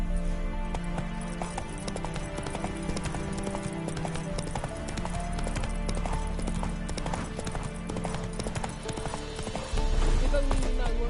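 Roach, the horse in The Witcher 3, gallops with rapid rhythmic hoofbeats over game music, and a voice speaks briefly over the sound.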